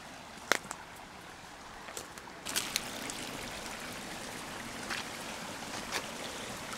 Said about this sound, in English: The trail has become a stream.